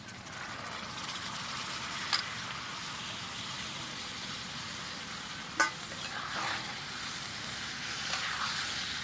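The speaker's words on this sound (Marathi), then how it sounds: "मस्त मसाला तळून घेतला आता भिजत घातलेल्या चवळ्या टाकून घेतो" Soaked cowpeas sizzle in fried red chilli masala in a pan, a steady, close hiss lasting the whole stretch, broken by a couple of brief clanks from a spoon, with no talk.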